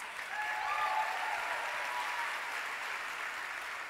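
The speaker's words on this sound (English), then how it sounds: "They deserve a round of applause." An audience at a student political summit breaks into applause for law enforcement, a steady, fairly distant wash of many hands clapping with a brief whoop or whistle early on.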